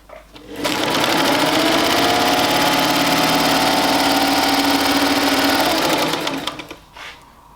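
Sewing machine running a continuous stitch (stitch number 30) with the bobbin engaged, a steady mechanical whir that starts abruptly, holds loud and even for about five seconds, then winds down and stops.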